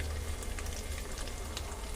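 Poppy seed and cashew paste frying in a pan for chicken biryani, a dense, continuous sizzle and crackle heard up close and alone, with no talking.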